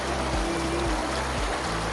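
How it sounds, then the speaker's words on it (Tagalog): Cold stream water flows steadily along the Silberberg-to-Vomper Loch route, a loud, dense, unbroken rushing close by, with low rumbling swells underneath. "Ito yung tubig malamig."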